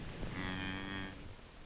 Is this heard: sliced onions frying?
no